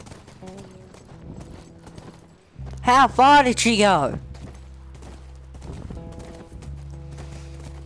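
Horse hooves clip-clopping in The Last of Us, a steady rhythm under a loud horse whinny and a short spoken line.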